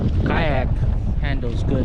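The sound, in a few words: strong wind while kayak fishing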